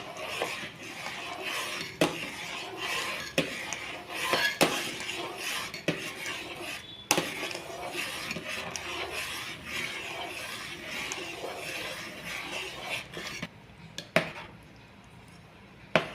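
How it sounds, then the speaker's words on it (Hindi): Wheat batter is stirred in a pan over a medium flame, the utensil scraping and clinking against the metal in repeated strokes, with a few sharper knocks. "इसे धीरे धीरे इसमें ऐड करते जाना है और इसी तरह से हिलाते जाना है"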